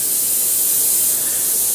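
An airbrush sprays a fine paint mist in a brief, steady hiss with no pauses, close up and alone.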